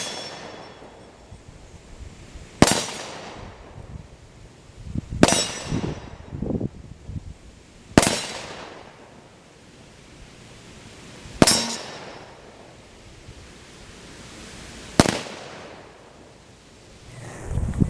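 Five loud Ruger revolver shots ring out outdoors, spaced a few seconds apart, each a sharp crack with a brief metallic ping off steel targets and a short decaying tail.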